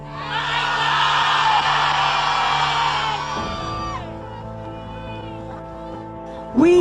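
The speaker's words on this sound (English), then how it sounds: "Scream your loved one's name." A large crowd at a Washington rally for fentanyl victims screams together, a loud sustained mass of overlapping yells that fades to scattered voices before another surge of shouting at the end.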